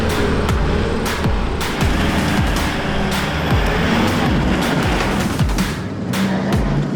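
A Nissan Patrol 4WD engine revs hard and continuously while climbing a rut on a mountain track, loud and close, with no talk over it.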